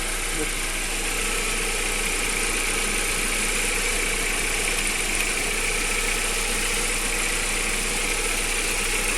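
A cold 1.6-litre petrol engine in an Audi A4 B5 idles steadily with a constant hum and a slight uneven vibration, heard continuously and fairly close throughout.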